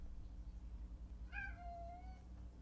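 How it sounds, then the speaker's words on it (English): A cat gives a single drawn-out meow near the middle, faint and close, over a low steady hum, with no talking. "The cat the cat would like to give her review for the visit."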